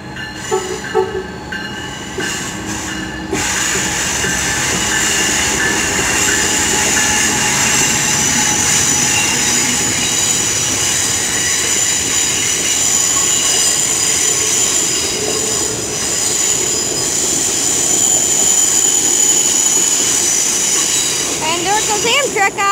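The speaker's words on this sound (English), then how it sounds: "And there goes AMTRAK, guys." Amtrak train 313 departs Kirkwood station, its cars rumbling past close and loud with sustained wheel squeal and metallic screeching throughout.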